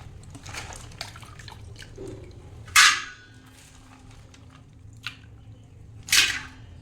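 Water sloshes and drips in a basin, with two louder splashing swishes as herbs are stirred and rinsed by hand in dirty water, close by.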